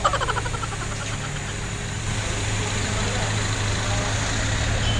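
A new motorcycle tricycle engine idles in a steady, close rumble with a constant low drone and faint rattling vibration, running alone without talk.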